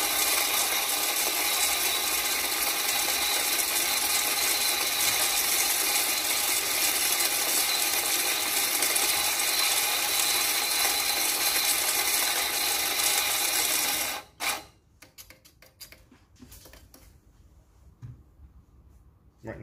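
A coffee grinder grinds an 18-gram dose of coffee with a loud, steady rattling burr whir for about fourteen seconds, then cuts off, and a few short clicks and knocks follow.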